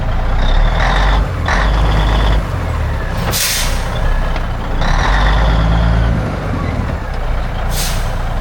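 A 1980 Caterpillar-powered Kenworth K-Whopper truck's diesel engine revs loud and steady, surging in repeated pulses as it rocks back and forth, with air-brake hisses and people talking over it.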